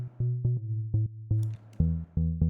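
Higher-octave analog-style synth bass sample repeats short plucky notes in a syncopated groove, then shifts to a brighter, fuller pitch for the final hits; clear and upfront with no voices.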